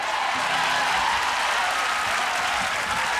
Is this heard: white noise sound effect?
no